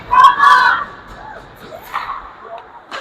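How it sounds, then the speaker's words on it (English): A youth hockey crowd at a Shakopee game cheers and shouts. A loud burst of voices rises at the start, then it eases to scattered calls and murmuring in an indoor rink. "Shakopee crowd's getting fired up here."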